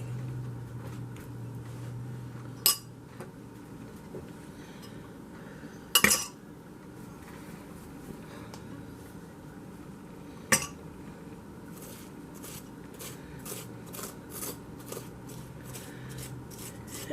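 A fork scraping and shredding cooked spaghetti squash lengthwise, with quiet rubbing strands broken by a few sharp clinks of metal against the dish, then faster rhythmic scrapes near the end.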